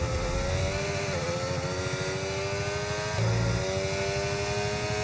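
An F1 race car in the F1 25 video game, driving with a flat tire, gives a steady, droning engine whine at high revs that shifts pitch briefly midway, with no talk.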